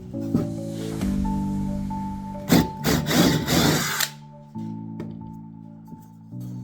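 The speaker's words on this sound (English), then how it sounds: "Now just line your Forstner bit up with those marks that you made." A Forstner bit in a power drill bores into wood for a beginner DIY project, with the motor whining steadily, then a loud rough burst of cutting for about two seconds before it settles back to a free-spinning hum.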